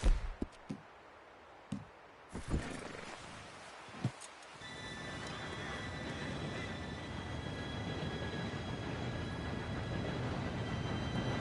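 A few sharp clicks and taps, then a rumbling train approaches in Red Dead Redemption 2, growing steadily louder with a faint metallic whine.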